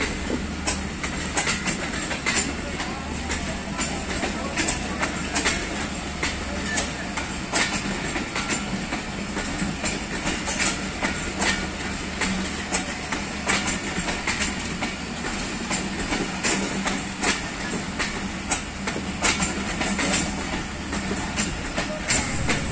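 Crowded Pakistan Express passenger train running on rails on the Khanewal–Wazirabad branch line toward Karachi, a steady loud rumble with rhythmic clickety-clack of wheels over rail joints throughout, heard from onboard.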